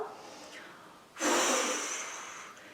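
A soft breath drawn in through the nose, then a strong, breathy blow out through the mouth, close and clear with no speech.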